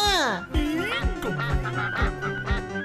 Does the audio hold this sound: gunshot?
no